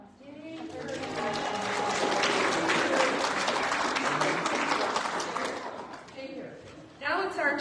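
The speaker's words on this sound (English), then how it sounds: "Let's give a round of applause." A church congregation applauds during a Sunday morning Presbyterian service, a sustained wash of clapping swelling and fading over several seconds before a voice resumes speaking.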